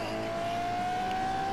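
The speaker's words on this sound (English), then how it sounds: "So we're about to drive the Ferrari LaFerrari." A Ferrari LaFerrari races in The Grand Tour video game, a steady high engine whine with tire noise, close and continuous with no talking.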